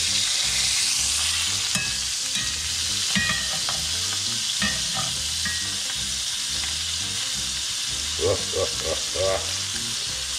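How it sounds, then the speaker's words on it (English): A sous vide steak searing in a hot pan with butter gives a loud, continuous sizzle and crackle, close up, with scattered louder spits and pops and no voices. "the goal here is we're just trying to get a nice, good looking brown sear to it"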